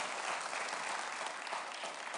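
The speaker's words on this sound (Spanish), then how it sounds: "Ahora sí, denle un aplauso al Rey de Reyes." A church congregation applauds during a sermon, a soft, even patter of many hands clapping that sounds distant and steady for its short duration.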